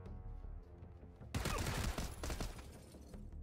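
Gunfire in PUBG: a sudden loud burst of shots erupts about a third of the way in over a low background rumble, followed by several further close, sharp reports that fade toward the end.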